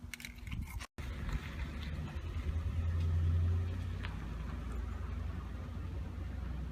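A coupe rolls slowly around the block, its engine a low, steady mid-distance rumble that swells briefly and settles, preceded by a sharp knock and a momentary dropout near the start.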